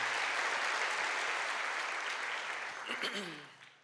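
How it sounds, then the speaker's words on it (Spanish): A church congregation claps for Jesus during a sermon, a dense, steady round of applause that thins out near the end as a voice begins speaking over it. "Denle un fuerte aplauso a Jesús"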